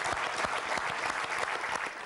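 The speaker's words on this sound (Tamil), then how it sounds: "முதல்ல அதுக்கே ஒரு பெரிய கைத்தட்டல்கள் பார்க்க" Studio audience at a Tamil celebrity TV show breaking into loud, sustained applause, dense overlapping claps filling the room with no break.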